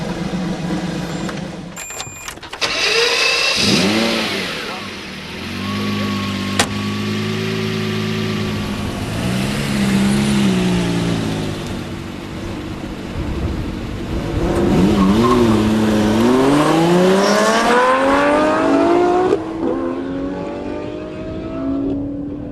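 A Noble M400 sports car with about 600 horsepower revs, then launches off the line with a brief tire squeal, its engine note rising loud and close through several gear changes before settling near the end.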